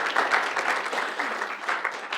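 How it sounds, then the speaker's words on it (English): Moderate audience applause at a university speaker series talk, a brief round of clapping at fairly even volume. "give a round of applause to Natalie"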